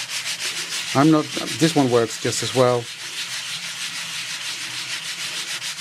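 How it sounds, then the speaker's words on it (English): Rhythmic, gentle rubbing strokes as a sanding block is drawn with light pressure across an embossed snowflake art journal page, repeating steadily throughout while a voice speaks briefly over the first half. "I'm going to take my sanding block out and I'm going to sand this."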